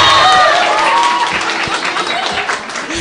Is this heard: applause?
yes